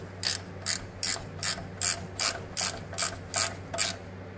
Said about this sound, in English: it's a 10 mil for that ground I talked about earlier, so we'll just ratchet wrench that out